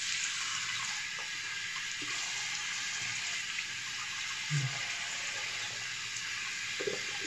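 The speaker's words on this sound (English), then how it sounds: "I'm gonna wash this off with some warm water" Warm tap water runs in a steady hiss while shaving product is rinsed off after a razor shave, with faint splashes and knocks of hands and the sink underneath.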